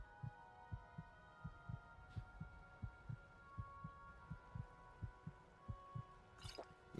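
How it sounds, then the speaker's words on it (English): A slow, even heartbeat thumps about twice a second in a Beyond Skyrim Iliac Bay game scene set underwater, soft double beats over a quiet low hum. "Just have another to get rid of the heartbeat sound"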